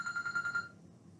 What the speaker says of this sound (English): I gotta shut my phone off. It won't stop.